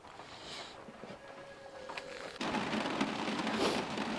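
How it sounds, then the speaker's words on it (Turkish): Steady rain hisses in the background at a campsite at night, then suddenly grows heavier and louder partway through, a dense downpour with no voices. "Yağmur sesinden televizyonu duyamıyorum."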